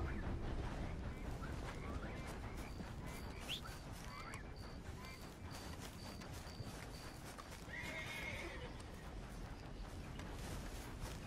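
A horse whinnies over steady hoofbeats and a constant rushing background in the video game Red Dead Redemption 2, with no talking.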